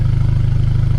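An Audi four-cylinder turbo engine with its catalytic converter deleted burbles at a steady, close, loud idle through the exhaust, a brief rhythmic drone.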